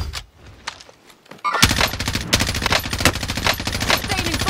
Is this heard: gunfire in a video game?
yes